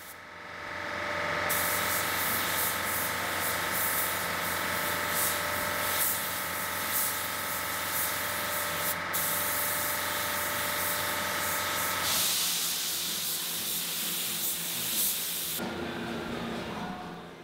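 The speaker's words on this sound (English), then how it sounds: "You're kind of forcing it to dry by blowing air on it" Compressed air blows steadily across freshly sprayed base coat and clearcoat paint on a tank lamp to dry it, a loud continuous close hiss that carries on for many seconds with a slight change in tone partway through.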